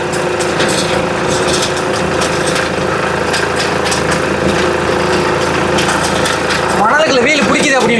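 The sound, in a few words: homemade mini train from scrap running on sand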